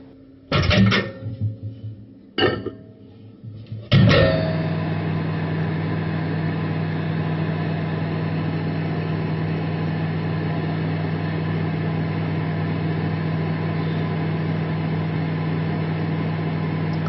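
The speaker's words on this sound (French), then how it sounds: "il n'y a plus qu'à le passer au micro-ondes" A microwave oven heats a chocolate and peanut butter mug cake. Its door thuds shut and the buttons click, then a steady low hum and whir continues for over ten seconds.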